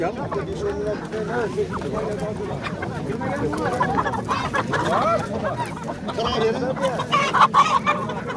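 Roosters and hens cluck and call continuously at a busy poultry market, the birds close and lively while people talk throughout.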